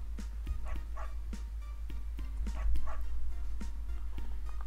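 A dog in the video game Always Sometimes Monsters barks in a quick series of short, evenly spaced yips over a steady low hum, fairly close, with no one talking.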